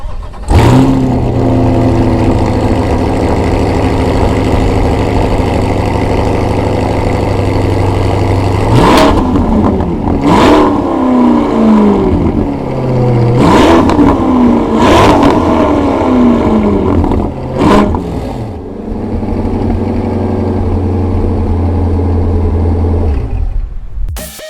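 A C8 Corvette with an AWE aftermarket exhaust idles with a deep burble, then revs sharply several times, each blip rising and falling with a raspy, loud exhaust before settling back to idle.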